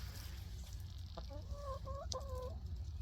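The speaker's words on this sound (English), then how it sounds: "I do have another chicken." A backyard homestead hen clucks in a short run of low, wavering calls, moderately close, over a steady low outdoor hum.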